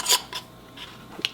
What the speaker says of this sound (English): So add the lid and a ring.